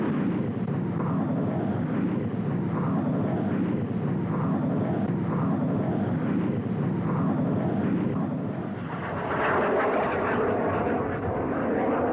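Loud, steady roar of an A-4B Skyhawk jet taxiing on the ground, rumbling continuously with a rising surge near the end.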